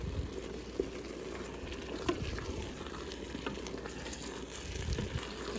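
Tomato paste sizzles in a pan for homemade lasagna while being stirred, a low, continuous frying hiss with occasional soft scrapes and knocks of the spoon, fairly quiet and without talk.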